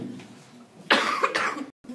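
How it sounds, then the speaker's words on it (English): A person coughs a few times in short bursts at a meeting, fairly close and clear, against a quiet room with faint murmuring before it. "I'm very sorry for coughing at you."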